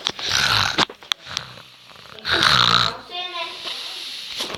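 Loud nasal snoring-like snorts come in two long close breaths, with a Portuguese-speaking voice apparently imitating a snore and clicks and rustling between them.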